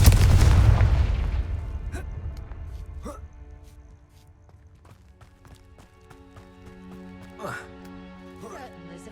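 A Confringo fire spell in Hogwarts Legacy bursts into a loud booming blast at the start that rumbles and fades over a few seconds, followed by scattered faint impacts and crackles.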